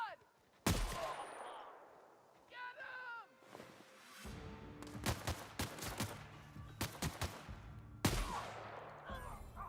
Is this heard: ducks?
no